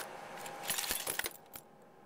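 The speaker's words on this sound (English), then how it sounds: "Tons of little skeleton keys." A handful of small metal skeleton keys jangling and clinking together, a brief cluster of bright, close metallic taps and rattles that fades out after a couple of seconds, with no talking.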